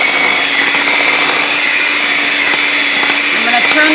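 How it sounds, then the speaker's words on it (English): Handheld electric mixer beating chocolate cake batter in a bowl, a loud steady motor whine holding constant throughout with faint scraping clicks. "Just with a simple handheld mixer, we are going to mix this for 2 minutes"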